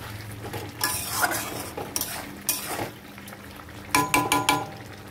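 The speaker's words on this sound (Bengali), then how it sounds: "আর এইদিকে দেখো ডিমের কারি করছি।" Egg curry cooking in a pan, with bursts of metal clattering from a utensil stirring against the pan, in several short clusters over a quiet kitchen background.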